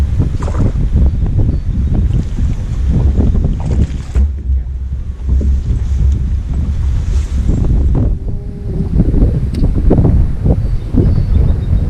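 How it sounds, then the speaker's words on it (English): Strong wind buffets the microphone in heavy, rumbling gusts on a fishing boat on a Minnesota lake, with water sloshing and the boat's hum underneath, loud and constant throughout. "Out here today, it's a little windy."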